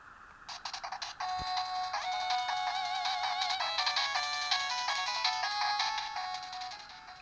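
A black original Game Boy plays its startup chime, a bright electronic melody of clear beeping tones with a brief click at the start, loud and alone with no talking.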